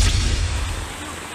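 Powerful floodwater in barangay La Union, San Isidro, Davao Oriental, strong enough to sweep away a house, roars in a dense, loud rushing wash for a brief moment.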